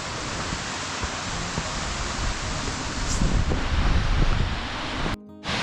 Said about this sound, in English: pretty little waterfall as we make our descent down